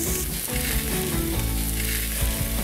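T-bone steaks brushed with seasoned oil sizzling on a barbecue, a loud steady close sizzle with a few short pops and no talking.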